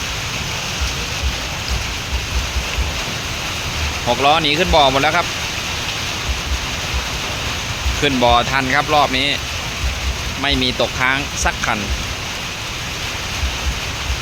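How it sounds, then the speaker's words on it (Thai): Steady rain hisses throughout, with someone speaking in short bursts over the downpour. "มาอีกแล้วครับฝนมาอีกแล้ว"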